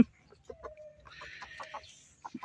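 Chickens cluck softly in short bursts nearby, with a brief higher squawk in the middle; quiet farmyard background.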